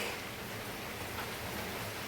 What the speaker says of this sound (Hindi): और बारिश आ गई है भाई।